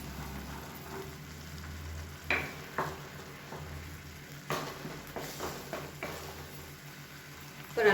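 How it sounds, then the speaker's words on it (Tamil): A pot for broken wheat kolukattai bubbles steadily at a low simmer, with a few soft clinks and stirring scrapes breaking through the constant background hiss. "இப்போ நல்லா கொதிக்க ஆரம்பிக்குது."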